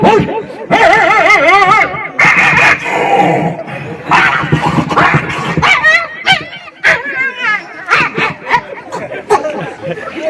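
A voice imitates three dogs fighting at once, a loud, continuous tangle of mimicked barks, yips, growls and whimpers that overlap with no pause, delivered on stage before a crowd.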